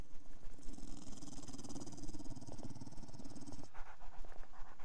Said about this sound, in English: The zombie dog is panting?